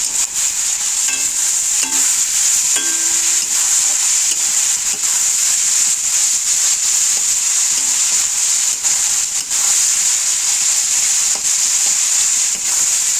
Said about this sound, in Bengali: এইবার নাড়াবো, যা যা ভেজিটেবল কেটেছি সব দিয়ে দিচ্ছি।